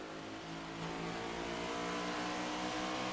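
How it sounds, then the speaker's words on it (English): A loud, steady race car engine in an iRacing race at Phoenix roars throughout, its pitch dropping and climbing through downshifts, with no voices. "You hear the downshifts."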